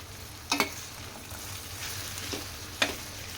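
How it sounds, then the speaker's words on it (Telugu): Okra pieces fry with chopped onion in a pan, keeping up a continuous moderate sizzle, while a few distinct spatula scrapes and taps mark the stirring. "ఐదు నుండి పది నిమిషాల వరకు ఈ బెండకాయ ముక్కల్ని ఫ్రై చేసుకోవాలి"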